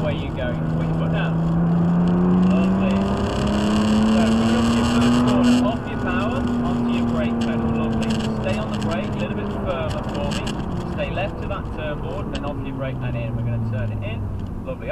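A supercar engine accelerates on a tarmac track, its steady droning note climbing in pitch, dropping at a gear change and rising again, loud and continuous beneath an instructor's voice.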